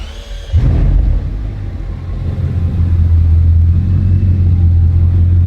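A Bugatti Chiron Pur Sport, freshly repaired after a crash, fires up and holds a loud, deep, steady engine rumble close by, building slightly in intensity before cutting off abruptly.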